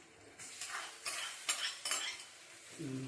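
A spoon stirs ladies finger chutney around a pan in four or five distinct scraping strokes, each a short rasp against the metal with brief pauses between, close and clear with no talking.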